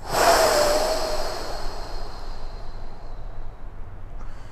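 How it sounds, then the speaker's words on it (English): A single long, forceful breath out, loud at first and trailing off into quiet, close to the listener. "so I'm just going to take a full deep breath in"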